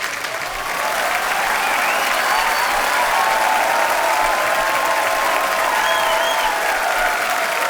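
Studio audience applause on The Kapil Sharma Show swells quickly and holds as a loud, dense, sustained wash of clapping from a large crowd, with a few whoops rising above it.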